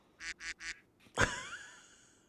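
A duck quacking sound effect played during a podcast: three quick, evenly spaced nasal quacks, then a louder squawking honk that trails off, close and clear with no talking over it.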